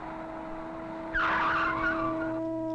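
A car's tires skid and squeal loudly for about a second over a steady engine drone, starting abruptly partway through with no voices.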